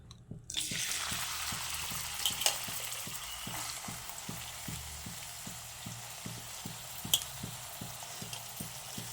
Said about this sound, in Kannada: ಈರುಳ್ಳಿ ಮತ್ತು ಹಸಿಮೆಣಸಿನ್ಕಾಯಿ ಇದೆಯಲ್ಲ ಎರಡು ಹಾಕಿ ಚೆನ್ನಾಗಿ ಫ್ರೈ ಮಾಡೋಣ